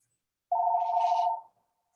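A single telephone ring sounds during a Zoom call, one steady electronic tone lasting about a second, clear and close against silence.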